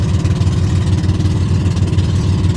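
A fuel-powered generator runs steadily nearby, a loud, continuous low mechanical hum and throb with no change in pace and no voices.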